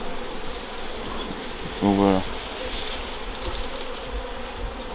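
Honeybees buzz around the small entrance of a beehive during a beekeeper's hive visit, a steady hum that swells into a louder, closer drone for a moment, with a brief spoken phrase over it.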